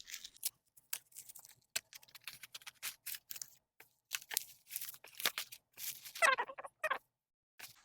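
Scissors snipping and slicing through the packaging of a boxed Gucci-style unboxing item, a string of quick crisp cuts and tearing scrapes close by, with a longer rasping rip near the end and no talking.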